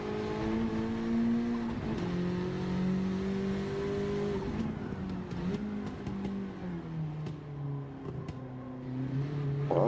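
Honda Integra engine in Gran Turismo 7 on the Nordschleife, revving hard under acceleration, a loud sustained tone that climbs in pitch, dips at gear changes and climbs again.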